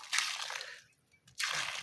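Water poured onto soil at a coconut planting hole, sloshing and splashing in two bursts separated by a brief pause, close and fairly loud.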